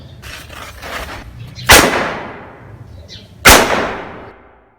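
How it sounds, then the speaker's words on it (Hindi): Firecrackers set off on Eid day: two sharp, loud bangs about two seconds apart, each leaving a short trailing echo that fades, heard over a low outdoor background murmur. "ये देखना अभी फटेगा, ये देखना अभी"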